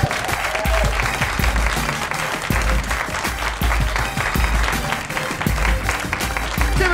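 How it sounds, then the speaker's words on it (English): A live comedy club audience at a Chicago stand-up show bursts into sustained applause, dense rapid clapping filling the room steadily and loudly for several seconds, with faint background voices. "Give it a hand for yourself."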